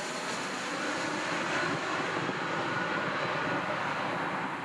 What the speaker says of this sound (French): leur avion se pose en Allemagne.